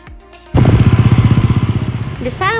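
A motorcycle starts up and revs with a steady, throbbing engine pulse close by, ridden through a neighbourhood around Jatiwaringin, fading into a brief higher sound at the end.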